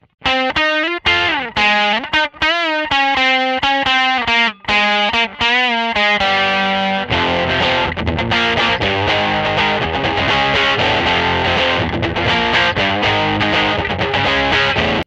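A distorted Fender Jaguar electric guitar with a thick, aggressive bridge-humbucker tone plays bending riffs, then settles into heavy, sustained chugging chords, loud and alone.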